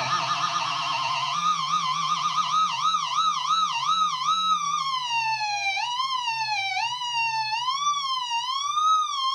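Electric guitar fitted with a sustainer, held notes swooping and wobbling through whammy-bar bends, loud and continuous with a siren-like rise and fall, no talking.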